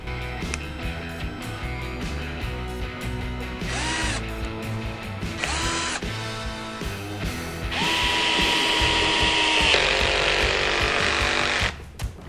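A Dnipro-M CD 12Q cordless drill drives a 35 mm furniture screw into wood on a low clutch setting, sending repeated rising motor whines close up, then the clutch ratchets loudly near the end.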